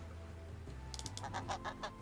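Geese in Age of Empires gameplay give a rapid series of about six short honks, moderately loud, over a low droning game background with no talking.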